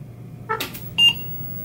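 An Apple II Plus computer gives a single short electronic startup beep that rings out clearly after a brief burst of clicking and rustling, then quiet hum remains.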